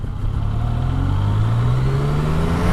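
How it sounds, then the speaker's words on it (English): A 2017 Yamaha MT-09 motorcycle engine throttles up smoothly from idle while riding, its pitch rising steadily from a low rumble to a higher, louder drone over a few seconds. "Idling along, I'm going to throttle up."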